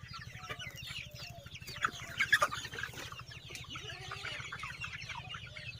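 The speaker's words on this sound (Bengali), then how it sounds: "আপনারা মুরগি দেখেন" Sonali super hybrid chickens cluck and murmur throughout a large poultry shed, a dense flock chorus over a steady low mechanical hum, with a few louder calls rising near the middle.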